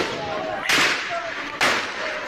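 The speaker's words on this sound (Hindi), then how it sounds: "ये देखें लगातार यहाँ पे फायरिंग हो रही है।" Gunfire in a street during violent unrest in Muzaffarabad, Pakistan-administered Kashmir: two sharp, loud cracks roughly a second apart, heard over a hissing background without speech.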